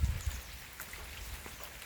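Heavy rain falling in rural French woods, a steady dense hiss of drops with low rumbling at the start, continuous and fairly faint.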